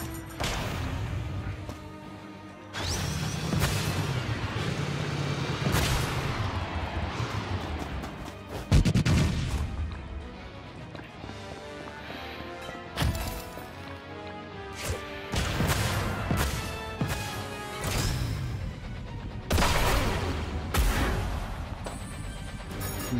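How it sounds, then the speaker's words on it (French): Bomb explosions in the video game Rocket Arena, several sharp bursts and crashes at irregular intervals over a dense layer of game music and effects, with no talk. "Ah, c'est une bombe"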